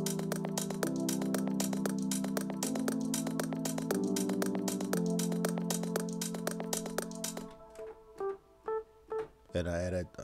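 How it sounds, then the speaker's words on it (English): Electric piano from the Lounge Lizard plugin playing sustained chords with a rhythmic pulse in an Afro House track, steady and clear for most of the stretch before thinning out, with someone briefly speaking at the end. "We use Lounge Lizard for this, and then it sounds like this."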